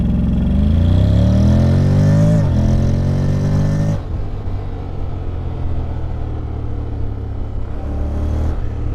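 A 2021 Honda X-ADV 750 scooter with a DCT gearbox revs up loudly and close, its pitch climbing for a few seconds before dropping back to a throbbing idle.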